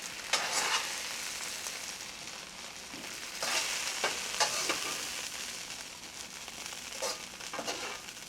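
Escarole sizzling in a hot pan, a steady frying hiss broken by repeated scraping stirs, close and moderately loud with no talking.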